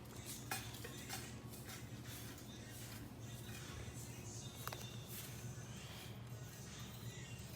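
Dry-brined Alaskan Copper River red salmon bellies are mixed in a container, making faint, close scraping and occasional light clinks and taps against a quiet, low hum.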